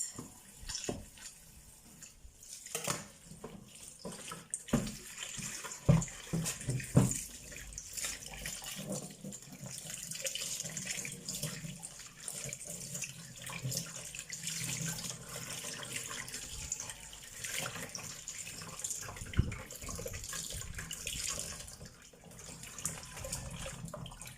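Tap water runs steadily into a sink while vegetables are washed, a continuous splashing gush with occasional louder splashes and clatter as produce is handled, close and without talk.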